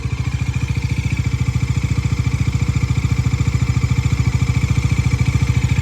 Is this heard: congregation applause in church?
no